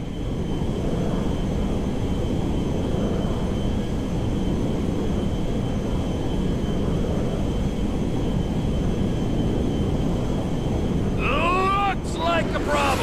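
A jet aircraft roars steadily in GTA 5, a loud continuous broadband rumble with wind-like rush throughout, joined near the end by a brief burst of chirpy, warbling electronic tones.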